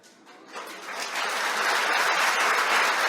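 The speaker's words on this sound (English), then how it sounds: "Somebody is not clapping, clap it up, clap it up." Students clap their hands in a classroom, starting sparse and quickly building into loud, sustained applause from the whole group that holds steady to the end.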